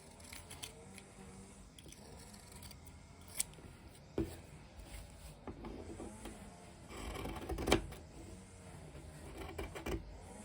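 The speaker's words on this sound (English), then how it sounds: "Okay, finished stitching, so I'm just trimming it down." Scissors trimming stitched fabric, a series of quiet close snips and small handling clicks at an uneven pace, with no talking.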